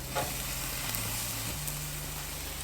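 Sugar-marinated Korean kalbi beef short ribs sizzle on a grill, a soft, steady crackle and hiss that runs the whole time with no talking.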